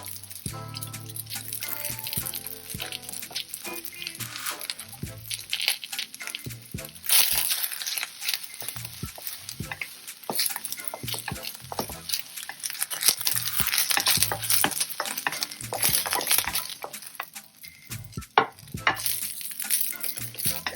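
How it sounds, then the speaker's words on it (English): Sliced yellow onions and the white parts of green onions sauté in a wok for a beef stir fry, sizzling continuously with frequent scraping and stirring clatters from a utensil against the pan. "Now we'll saute the sliced yellow onions, the whiter part of the green onions."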